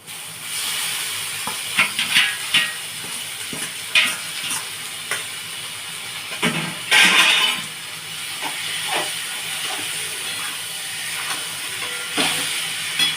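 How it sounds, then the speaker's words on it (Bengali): Pressure-boiled, salted water lily stems tipped into a hot pan and stirred, giving a continuous hiss with scattered scrapes and clacks of the spoon and a louder burst of sizzle midway, heard close with no talking. "এবার শাপলাগুলো দিয়ে দিচ্ছি এর মধ্যে"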